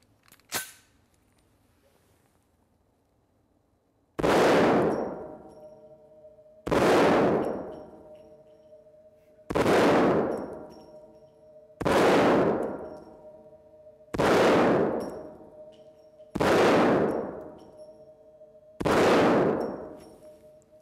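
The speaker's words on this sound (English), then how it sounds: "But I gotta shoot the big 50." A Magnum Research Desert Eagle pistol fires .50 AE rounds, seven loud, sharp shots spaced roughly two and a half seconds apart, each booming blast ringing out after a faint metallic click and quiet pause.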